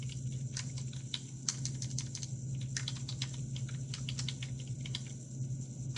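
Computer keyboard typing while entering PowerPoint text, a steady run of quick, close clicky keystrokes in irregular bursts over a constant low hum.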